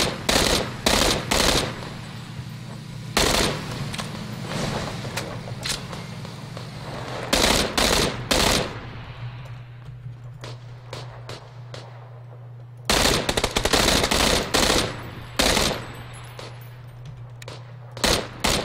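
Repeated bursts of automatic gunfire in the battle royale game PUBG (Battlegrounds), loud and close, arriving in clustered volleys with gaps between them over a steady low background hum.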